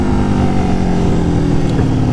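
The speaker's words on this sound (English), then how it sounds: "Guys, this bike sounds better than any of my other bikes, hands down" An Aprilia Tuono Factory motorcycle fitted with an SC Project S1 exhaust drones loud and close, its deep, steady engine note running unbroken throughout with no speech over it.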